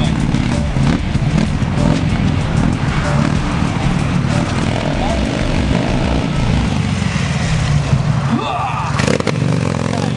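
A Buell motorcycle engine runs steadily and loud throughout a controlled stunt, the front wheel folding under the rider, with no break in the engine noise and a brief shift near the end.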